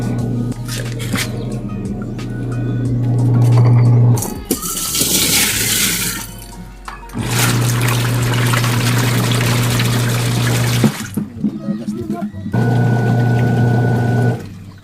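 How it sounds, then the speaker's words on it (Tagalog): Water pours and splashes loudly into a faulty humming washing machine in repeated bursts, with short pauses between runs, over a low mechanical hum. "lagyan natin ng tubig guys"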